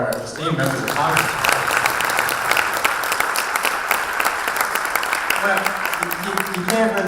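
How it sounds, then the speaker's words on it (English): Loud audience applause rings out for members of Congress at a health workforce diversity panel, a full burst of clapping that holds steady for several seconds, with a speaker's voice heard briefly at the start and again near the end. "Another round of applause for our esteemed members of Congress."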